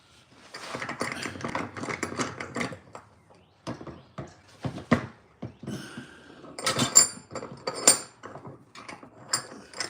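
Rapid dry mechanical clicking and rattling of an ungreased ratchet wrench worked by hand in irregular bursts, close up with some metallic clatter.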